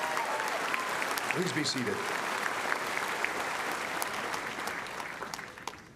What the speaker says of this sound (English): please hold your applause until after I've introduced everyone